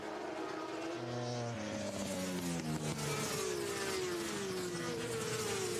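BSB superbikes, including a Halsell Racing BMW, race at full throttle around Thruxton's airfield circuit, a continuous loud engine wail with rising and falling pitch as bikes shift gears and pass close by.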